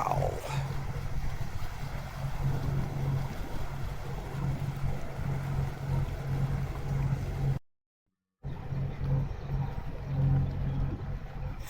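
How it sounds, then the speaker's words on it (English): Boat with four outboard motors nearing a dock on the water at Northport, Long Island, a steady low engine drone with wind and water noise, broken by a brief dropout, then resuming. "4 outboard motors I'm counting."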